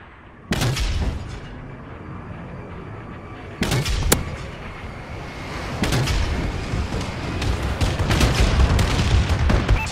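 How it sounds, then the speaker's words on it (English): Explosions from a Call of Duty: Advanced Warfare bombing run during a Domination match on the Solar map: several loud, sharp booms and blasts at irregular intervals over a constant rumble of battle, swelling into dense, sustained detonations toward the end. "Warbird support requested. Bombing run incoming."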